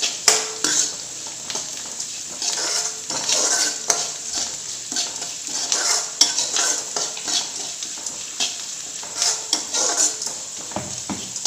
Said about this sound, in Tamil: இப்போ இந்த அரிசி மாவை ஊற்றி நல்லா கிண்டி விடணும்.